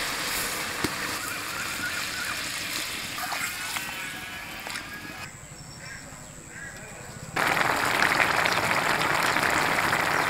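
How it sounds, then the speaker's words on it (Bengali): Water is poured into a pan of cabbage curry with peas and potatoes, a sudden loud rushing hiss near the end following quieter kitchen sounds. "এখানে জল দিয়ে দেবো।"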